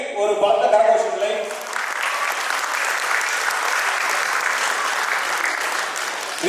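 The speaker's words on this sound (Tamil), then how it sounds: "அவர்களுக்கு ஒரு பலத்த கரகோஷங்களை." Loud, sustained audience applause fills a hall at a Tamil school's annual day function, starting with a brief spoken voice then a steady wash of clapping from many hands.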